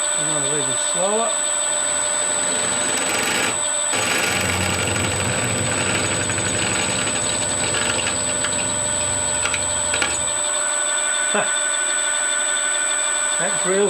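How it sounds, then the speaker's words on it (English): A drill bores into hard metal to prepare a hole for tapping during a fly cutter build, a steady grinding whine over a running motor, with a brief pause midway and speech nearby. "That drill's given up already."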